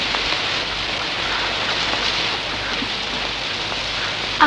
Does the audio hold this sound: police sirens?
no